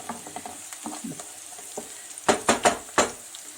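Carrots and onions sautéing together in a pan on a home stove, soft sizzling with light stirring, then a few louder scraping strokes of a utensil against the pan near the end.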